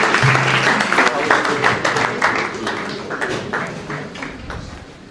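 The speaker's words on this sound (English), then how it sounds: "a round of applause for the chief bridesmaid, Chioma." Wedding guests at a Nigerian-British celebration applauding the chief bridesmaid, steady dense clapping from a crowd that holds for several seconds and slowly thins, with faint voices mixed in.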